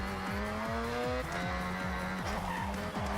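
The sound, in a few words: Mazda RX7 drifting with tire squeal in Forza Horizon 6 video game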